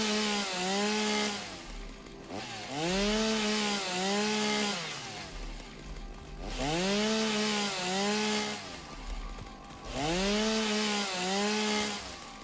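A chainsaw in the video game Satisfactory revs in three long, loud bursts with pitch sweeping up and down, close and continuous, with short gaps between bursts.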